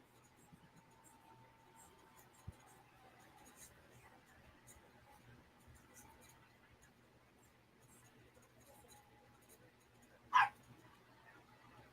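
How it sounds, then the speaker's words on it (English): Dogs bark in the background at a home as a hurricane approaches: mostly a quiet room, then one short, sharp bark from a distance near the end. "you're probably going to hear dogs in the background"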